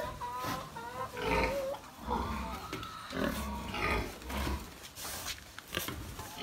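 Pigs in Barbados grunting and squealing in repeated bursts close by, with a few faint voices in the background.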